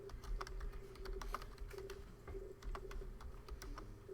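A name being typed on a computer keyboard: quick, fairly soft key taps in an uneven rhythm that runs throughout, close by, over a low steady room hum, with no talking.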